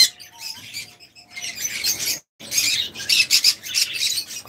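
Pet birds at a bird farm chirp and squawk in a busy, fairly close chorus of high calls, with a short pause midway before the chatter resumes, and no talk heard.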